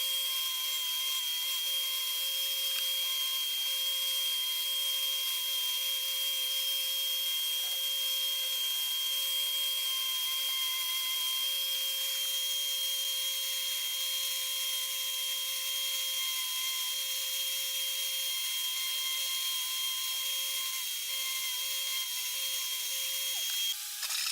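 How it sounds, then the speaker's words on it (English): A small belt sander smooths the edges of a walnut mallet with a continuous, unbroken whine and whirr that holds at a steady level throughout. "I used my small belt sander to clean up the edges and get rid of the bulk of the remaining extra material."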